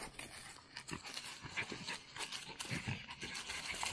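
A Jack Russell terrier pants and snorts up close, quick rhythmic breathy bursts and snuffles repeating throughout, fairly quiet with no talk over it.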